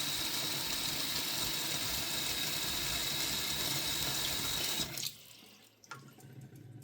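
Tap water runs steadily and loudly into a sink being filled for a pet cockatiel's bath, then cuts off abruptly near the end, leaving a few faint drips and small knocks.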